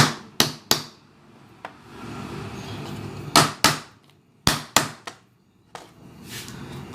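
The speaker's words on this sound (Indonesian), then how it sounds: "Pala itu kulitnya terlalu keras, jadi harus dipukul dulu teman-teman" A hard nutmeg shell is struck repeatedly to crack it open, about ten sharp, loud, close knocks in irregular bursts with short quiet gaps between them.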